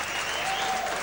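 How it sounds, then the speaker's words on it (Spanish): An audience at a boxing match in a packed hall claps in a brief, dense burst of applause, loud and sustained for the whole moment. "Aplausos del público que llena ya la sala La Paloma"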